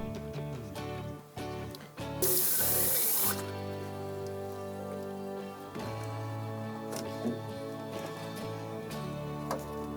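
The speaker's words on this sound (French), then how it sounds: "Après nettoyage, le siphon doit toujours être rempli d'eau." Water running briefly into the siphon of a Junkers gas boiler during servicing, a bright rushing burst of a second or so, followed by quieter clicks and a steady hum.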